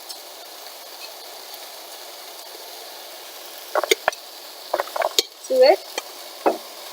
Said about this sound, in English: now I'll be adding the pressure cooked moong